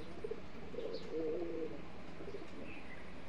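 Giribaz pigeons coo close by in low, rolling murmurs, a couple of soft calls rising over a quiet background with faint chirps.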